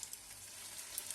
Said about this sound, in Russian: мы будем обжаривать на большом огне